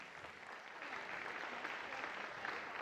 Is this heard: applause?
yes